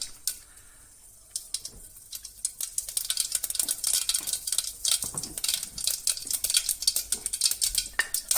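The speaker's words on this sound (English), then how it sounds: "Now you add some mustard seeds." Mustard seeds go into hot sunflower oil in a pan and begin to crackle and pop, the sputtering starting quietly and building into dense, steady spattering.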